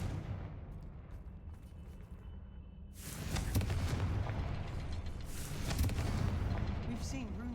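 A Confringo blasting spell bursts in Hogwarts Legacy, a sudden booming blast after a quieter stretch, followed by a rumbling tail and a second surge of crackling impact noise.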